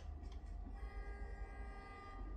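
A passing train in the video game Fortnite rumbles low and steady, with a continuous metallic drone and faint horn-like tones sustained throughout.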